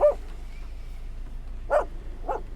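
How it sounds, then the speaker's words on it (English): A small dog gives three short, sharp yaps spaced apart, fairly faint over a low background hum. "the dog that loved to yap"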